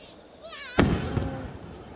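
Single firework burst at the Fukuchi fireworks festival in Japan, a sharp boom followed by a crackling tail and a second, softer pop, heard outdoors with a whistle rising just before and people talking around it.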